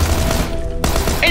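A Tommy gun fired in PUBG, a short loud burst of rapid automatic shots, a brief gap, then more fire, close and dense.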